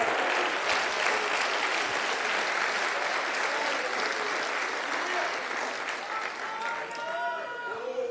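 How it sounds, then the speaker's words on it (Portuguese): An evening church congregation applauds in praise to God, producing a broad, steady crowd clapping that holds evenly for several seconds. Raised voices and cries rise over the applause toward the end. "Você pode aplaudir ao Senhor nessa noite?"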